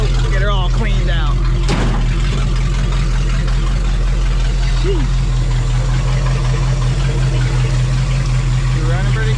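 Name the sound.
International Scout engine running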